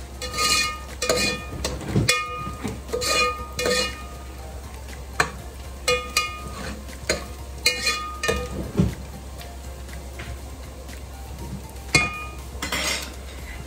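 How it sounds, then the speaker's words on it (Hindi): Onions being fried and stirred in a pan while cooking veg biryani: repeated metallic scrapes and clinks of a ladle against the pan, irregular and close, over a faint steady background hum. "आप जब प्याज भून रहे होते हैं तो उसको चलाते रहिए"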